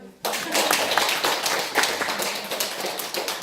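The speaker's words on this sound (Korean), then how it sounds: "이 박수 한번 쳐줄래요?" A room full of people breaks into steady applause, dense clapping that starts abruptly and holds at a lively, even level throughout.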